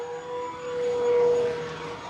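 An E-flite T-28 Trojan V2 electric RC model airplane with a 1.2 m wingspan makes a low pass at about 10% throttle, its motor giving a steady whine that swells and fades.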